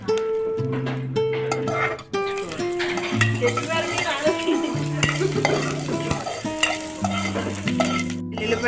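Onions fry in a pan for an old-style tomato roti pachadi, with a continuous close sizzle and repeated stirring scrapes, while soft tonal background music plays underneath.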